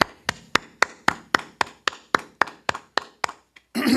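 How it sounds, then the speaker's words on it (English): About a dozen sharp, evenly spaced claps ring out one after another at a Wednesday night class, then stop before a burst of noise at the end. "All right, clap it up, clap it up"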